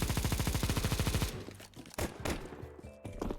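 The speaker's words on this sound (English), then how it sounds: "They just keep shooting the AK to make noise." An AK rifle in the game Counter-Strike fires a rapid automatic burst for over a second, followed by a few scattered single shots and impacts.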